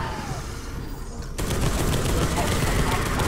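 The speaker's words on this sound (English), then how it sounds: "turrets for some reason, when you activate them, don't shoot the enemies, they only shoot you" Sustained automatic turret gunfire in Space Hulk: Deathwing, a dense continuous rattle of rapid shots that kicks in abruptly partway through after a quieter rumbling stretch, loud and unbroken to the end.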